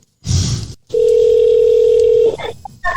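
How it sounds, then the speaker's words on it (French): Telephone dial tone on a radio call-in line: a loud, steady single-pitch tone holding for over a second, preceded by a short rustle and followed by faint clicks and beeps of the line connecting. "avec Nordine et monsieur Porter, Régis, pour essayer de l'avoir en ligne"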